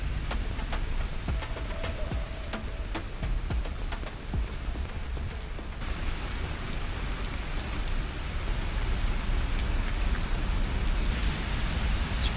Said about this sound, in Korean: 아무도 없는 축구장에 누워서 가만히 비를 맞았습니다